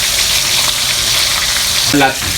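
Oil sizzles loudly and steadily as pork chops fry close by, with a brief clank near the end.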